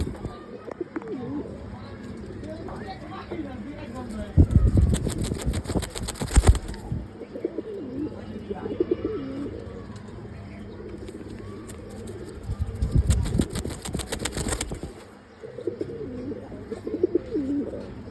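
Pet pigeons coo on a rooftop loft, a steady soft cooing throughout with two louder bursts of wing flapping, while someone talks over it.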